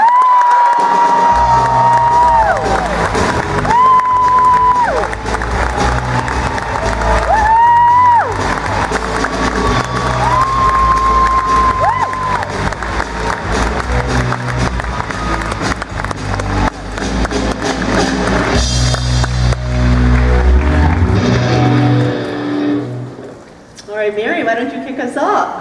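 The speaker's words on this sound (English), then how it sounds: "Please give a huge round of applause for the Captain Janeway, Kate Mulgrew." An audience at a Star Trek convention panel claps and cheers, a sustained wave of applause with whoops rising under an announcer's voice over the loudspeakers, fading near the end.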